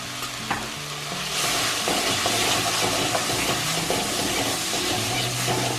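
Lightly browned onion frying with turmeric in a pan on a stove, stirred steadily; a continuous close sizzle swells after the first second, with spoon scrapes and clinks over it throughout.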